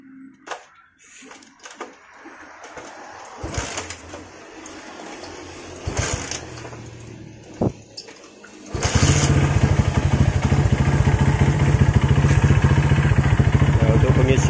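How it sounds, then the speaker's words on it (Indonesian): A Honda GL Max motorcycle engine fires up after several quiet attempts, then settles into a loud, steady idle. Someone speaks briefly before it catches. "sekarang kita coba untuk nyalakan mesinnya"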